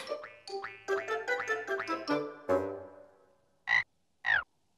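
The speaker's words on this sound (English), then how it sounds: "Hello, little frog." A cartoon frog croaks in a quick, bouncy run of about eight boing-like notes, then gives two separate, higher croaks after a pause. The sound is clear and close, with no talking.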